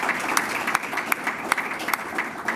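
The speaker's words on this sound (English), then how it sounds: "I want to applaud you for being here" Audience applause at a Hispanic Heritage Month commemoration held by the Town of Brighton, a steady wash of clapping from a crowd with a few louder individual claps standing out.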